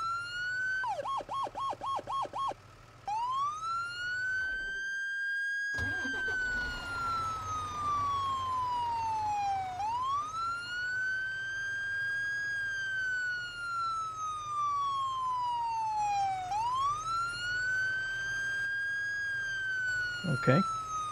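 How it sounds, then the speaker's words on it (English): A police siren wails in the firefighting video game Into The Flames, sweeping up and down in long loud cycles after a burst of quick chirps, with a steady vehicle rumble underneath. "I'm not sure how to activate the siren."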